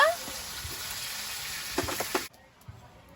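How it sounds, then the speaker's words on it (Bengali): Fish frying in oil in a pan makes a steady, close sizzle. It runs for about two seconds, bubbles up briefly with a few crackles, then cuts off. A voice is faintly heard near the end. "মাছগুলো ভাজা হয়েছে তুলে নেব"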